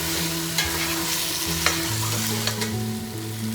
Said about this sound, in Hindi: यहाँ मैं 6 हरी मिर्ची भी ऐड कर रही हूँ इसके अंदर, इनको भी सौते कर लेंगे।